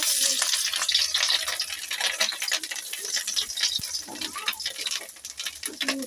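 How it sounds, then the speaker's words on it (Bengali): Bora fritters fry in a pan with a close sizzle and bubbling, mixed with stirring scrapes and occasional clinks, a steady busy crackle that eases slightly toward the end. "এই যে বড়া ভাজা চলছে।"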